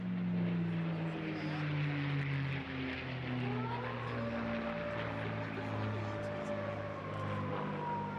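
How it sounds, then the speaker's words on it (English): A P-51 Mustang fighter flies past at the Bournemouth Air Festival, its propeller engine giving a sustained droning whine that shifts pitch as it passes, with distant crowd and wind noise behind it. "the P-51 Mustang."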